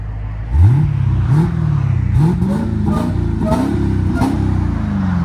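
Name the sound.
2023 Dodge Charger Hellcat exhaust, Valvetronic muffler, valves closed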